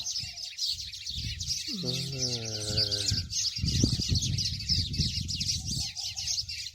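Birds in a backyard in Abu Dhabi give a dense, continuous high chirping chorus, with a brief harmonic call and some low rustling and voices underneath.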